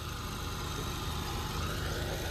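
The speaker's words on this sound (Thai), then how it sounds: "เครื่องยนต์ใหม่ครับ" A new Isuzu 6HK1 diesel engine of a harvester idles steadily nearby, a constant low rumble with a faint vibrating clatter and no talking.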